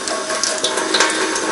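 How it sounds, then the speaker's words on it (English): Cold tap water runs slightly into a kitchen sink, a steady close splashing trickle with faint rattling, no voices. "You're going to want to have the cold water running slightly."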